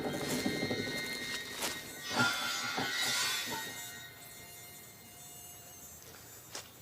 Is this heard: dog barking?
no